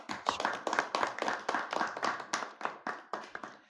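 A small audience at a social activists' meeting in Bihar claps in a steady, rhythmic round of applause, moderately close, with evenly spaced hand claps and no talk over them.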